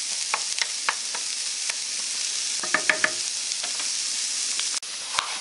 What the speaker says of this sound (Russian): Слишком долго я жарить это не буду. Немного только. Все перемешали.